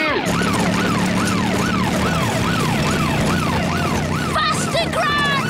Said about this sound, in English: And now there's a police car.